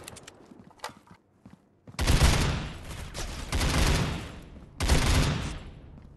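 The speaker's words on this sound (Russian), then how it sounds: "одно нажатие SA-58 выпускает 5 патронов" Burst fire from an SA-58 assault rifle in the Critical Ops video game, two loud sustained bursts following a few scattered quieter shots, each burst cutting off sharply.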